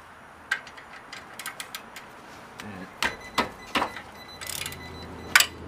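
A wrench working 18 mm brake caliper bracket bolts on a 2007 Chevy Suburban gives a string of sharp metallic clicks and ratchet ticks, close and fairly quiet, spread irregularly over a few seconds.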